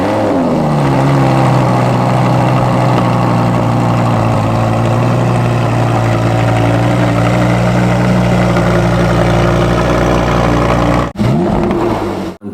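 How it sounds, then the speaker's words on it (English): A car with a newly fitted exhaust idles loud and close with a deep, steady rumble, then briefly dips near the end before settling again. "They've just fitted the exhaust. You'll hear it start up."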